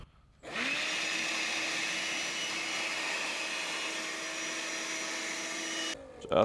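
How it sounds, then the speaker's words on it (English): An electric pump switches on with a sudden whine and runs at a steady, close, high-pitched drone, deflating a roof-top self-inflating mattress, then cuts off abruptly near the end. "You'll screw your pump or put your nozzle against the mattress"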